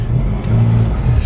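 A small classic car engine hums and revs while being driven, a close, loud mid-pitched drone that swells and settles over a brief stretch.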